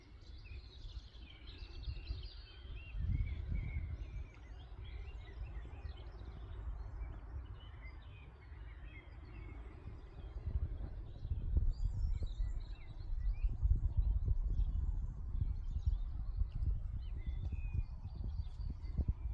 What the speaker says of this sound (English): listen to this for absolute silence with the birds singing in the background.